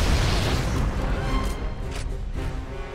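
Grenade explosion in a video game, a heavy rumbling boom already underway that decays slowly with a few faint crackles, no talk.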